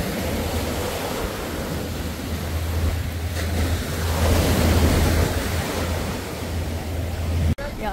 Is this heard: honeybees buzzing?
no